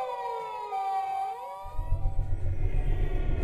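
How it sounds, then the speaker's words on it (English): A wailing emergency siren, a fire truck or ambulance in a video game, sweeps up and down in pitch from a distance, then continues beneath a low rumbling background noise. "And then from even further away I can hear the sound of a siren of a fire truck,"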